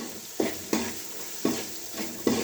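Spices and coriander powder stirred in a frying pan for a cauliflower and pea curry, with four sharp scraping strokes of a spoon against the pan over a steady low sizzle.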